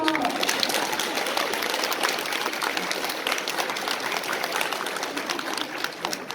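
An audience at a Calgary Expo convention panel claps and cheers in a thick, continuous wash of applause that stays loud and even throughout, with faint voices mixed into the crowd noise.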